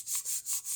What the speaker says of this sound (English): Rub my hands together in the bag.